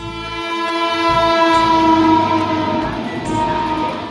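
A Vande Bharat train at a railway station sounds its horn in a loud, sustained, multi-tone blast lasting throughout, with rumbling wheels and station noise beneath.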